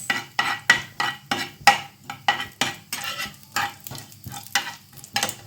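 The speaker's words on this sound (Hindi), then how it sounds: "थोड़ी सी कसूरी मेथी, थोड़ी सी खड़ी धनिया, इन सबको डाल के अच्छे से भून लूँगी" Kasuri methi, whole coriander seeds and cumin are roasted in a pan and stirred, giving a rhythmic series of sharp scraping strokes over a soft sizzle, close and loud, with no talk.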